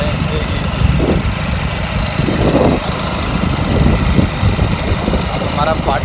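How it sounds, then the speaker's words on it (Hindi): Motorbike engine running steadily while riding through a city, a continuous mid-low drone with road rumble throughout, close and fairly loud. "बाइक पे सवार होकर जा रहे"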